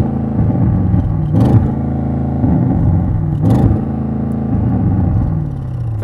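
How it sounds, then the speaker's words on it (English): An Audi RS7 with a sports exhaust and mild-hybrid setup revs while standing still, likely at traffic lights: a loud, close, steady engine drone with two brief sharp blips that are cut short by a soft limiter. "you're going to rev it at traffic lights, only when you try to do that, it's not as good as you expect"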